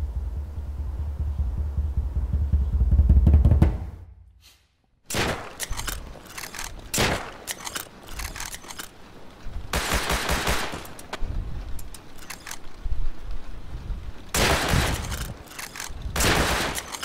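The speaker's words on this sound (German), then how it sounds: "Schießerei!" A shootout in the survival game Rust: a low rumble cuts out into sudden silence, then loud bursts of automatic gunfire come in irregular clusters, some long volleys and some short cracks, close and harsh.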